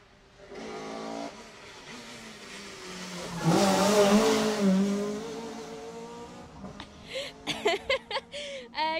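A Mark II rally car rounds a corner on a Jersey Rally stage, its engine revving and swelling loudly as it passes, then fading, with a commentator talking over and after it.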